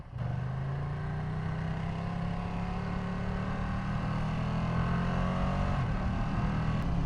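A 2022 Ducati Panigale V2 Bayless motorcycle ridden along, its engine holding a steady droning hum with a slight rise in pitch toward the end, wind noise underneath and no talking.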